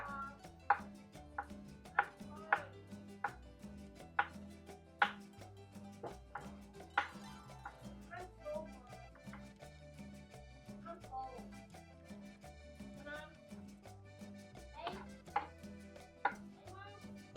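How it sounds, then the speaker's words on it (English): Garlic cloves being diced with a knife on a cutting board, a quiet series of sharp, irregular chopping taps that come in quick bursts with short pauses between them. "Then go ahead and get this diced up."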